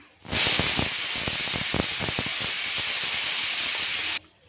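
A pressure cooker cooking radish and kohlrabi lets out a loud, continuous whistle hiss of escaping steam for about four seconds, with rattling underneath, then cuts off abruptly.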